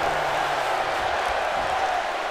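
A wrestling crowd cheering for a wrestler posing in the ring at a live show, a steady wash of crowd noise heard from a distance and sustained for the whole stretch.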